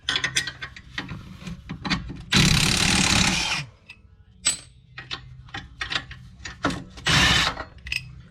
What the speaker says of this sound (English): Power tool now.